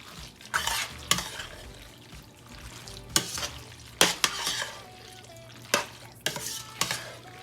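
A cheese mixture stirred in a hot pan for a cheap quick dinner, with soft sizzling under sharp, irregular scrapes and clanks of a utensil against the pan, close and without talking.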